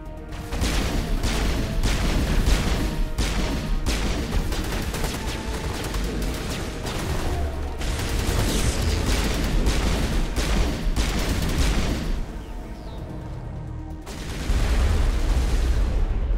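Heavy gunfire from the player's weapon in Mass Effect, dense sustained bursts of shots with booming impacts that pause briefly and then resume loudly.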